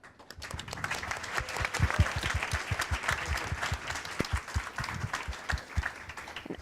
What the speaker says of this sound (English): it's time to give huge applause to our panelists